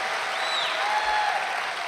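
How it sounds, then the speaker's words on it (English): Audience applause at a political rally in Rapid City, South Dakota, a dense wash of clapping from a large crowd, fairly loud and continuous for under two seconds. "That's worth an applause."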